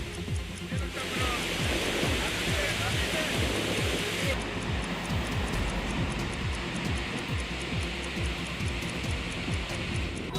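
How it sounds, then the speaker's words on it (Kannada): Torrents of water released from the Linganamakki dam rush in a steady, dense roar that fills the whole clip without pause, loud and continuous like heavy surf. "ಡ್ಯಾಂನಿಂದ ಅಪಾರ ಪ್ರಮಾಣದ ನೀರು ಹರಿದು ಬರ್ತಿದ್ದು"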